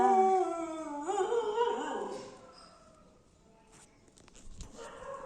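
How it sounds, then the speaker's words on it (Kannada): A female puppy nearby howls and whimpers in a long wavering cry that fades out, followed by a quiet pause and faint shuffling. "ಅಲ್ಲಿ ಬೊಗಳ್ತಿದ್ದಾಳಲ್ಲ"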